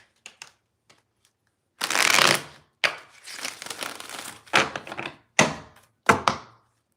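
Tarot cards being shuffled by hand, bursts of riffling and brisk slaps of the deck, one long riffle followed by several shorter shuffles and sharp taps, close and fairly loud with brief silent gaps.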